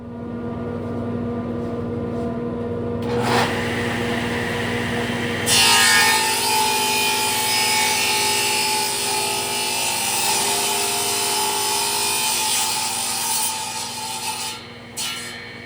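Small exotic wood blanks being sawn into pieces for a wooden ring: a loud, continuous, rasping cut that runs unbroken, grows harsher partway through and then eases near the end.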